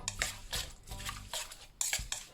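Small freshwater shrimp are tossed with a batter of flour, lime water and ice-cold water in a bowl, giving close, repeated clinks and scrapes of a utensil against the dish with no talk.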